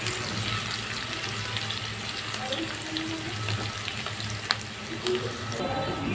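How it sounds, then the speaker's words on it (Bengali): Onion frying in a pan for a dried shrimp and drumstick curry gives a low, even sizzle, fairly faint throughout, with a couple of brief clicks and knocks near the end. "ভাজা হয়ে গেলে এর লগে দিয়ে দিম ইসা মাছ"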